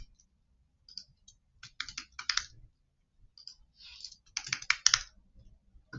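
Someone types a name on a computer keyboard into the approval field of a tax-return dashboard. The quiet keystrokes come in two quick bursts separated by a pause, with no talking.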